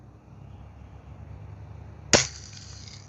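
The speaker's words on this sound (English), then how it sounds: "We're gonna shoot it out there" Single sharp crack of a Red Ryder BB rifle shot at a target outdoors, a brief near impact snap rising out of quiet low background.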